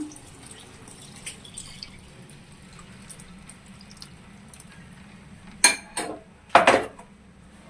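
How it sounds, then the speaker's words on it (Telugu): Tamarind juice is poured into a cooking pot of drumstick and egg pulusu, arriving as two short splashing bursts near the end after a quiet kitchen background. "ఇప్పుడు మనం చింతపండు పులుసు పోసుకుందాము. పోసుకుంటున్నాం."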